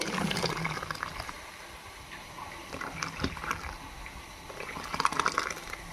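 Cooked sago pearls in water poured from a pot into a perforated strainer, making a soft, sloshing liquid gurgle with splashy bursts near the start and end.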